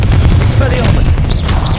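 Spell blasts from Confringo and Expelliarmus go off in Hogwarts Legacy in a loud, rapid burst of booming impacts, with whooshing effects over a dense rumble.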